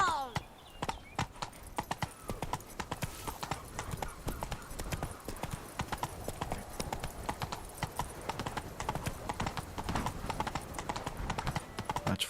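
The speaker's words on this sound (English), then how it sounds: "Come on, horse." Horse hooves clip-clop at a gallop in The Witcher 3, a dense, continuous run of sharp, rapid hoofbeats that fills the whole stretch, with faint game ambience underneath.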